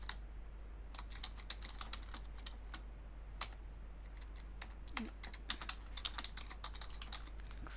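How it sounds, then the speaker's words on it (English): Someone types on a computer keyboard in a quiet room, with rapid, irregular key clicks and a few louder taps under a low steady hum. "Excuse my typing."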